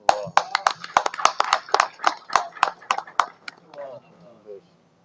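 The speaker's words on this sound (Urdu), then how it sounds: "آپ نے تالیاں تو بجا دی" An audience claps in a gathering hall during a religious training talk in Pakistan, with a burst of loud, uneven applause that fades out after a few seconds as a voice starts speaking.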